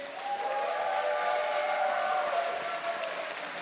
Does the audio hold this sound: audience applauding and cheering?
yes